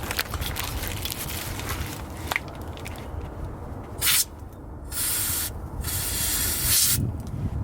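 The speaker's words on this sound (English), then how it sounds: "So we're just gonna spray some grease on it. It's called white lithium grease" White lithium grease sprayed onto an exhaust valve on a Mopar car, several short hissing spray bursts in close succession, with quieter clatter and handling noise before them.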